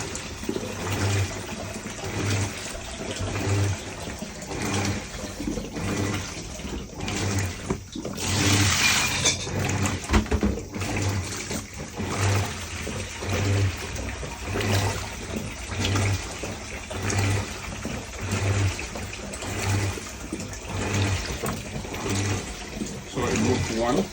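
A Japanese washing machine fills with fresh water as a steady, moderate stream runs for the whole span, with a person talking intermittently over it.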